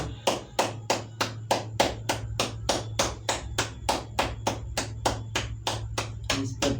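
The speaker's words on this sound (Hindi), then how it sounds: "ताली बजाना एक नियम माना जाता है" Hands clapping in a steady, even rhythm, about three claps a second, loud and close, sharp slaps continuing without pause for nearly seven seconds over a faint low hum, with no talk.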